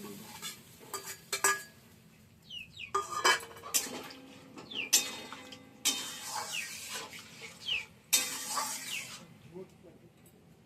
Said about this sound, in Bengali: এইবার পনিরগুলোও ছেড়ে দেবো